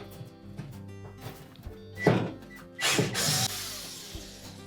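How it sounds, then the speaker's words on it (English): A power driver backs out the 1/4-inch hex head mounting screws holding the 240V bake element to the back wall of a Whirlpool range oven, in two short whirring bursts close by, with quieter handling noises around them. "we're going to remove the two mounting screws that secure that element to the back wall of the oven"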